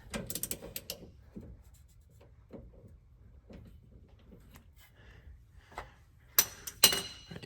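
A ratchet clicks in short, quiet bursts while loosening a 5/16 drain fitting on a diesel fuel filter of a Ram 2500 with a 6.7 Cummins, punctuated by a few sharper metallic knocks.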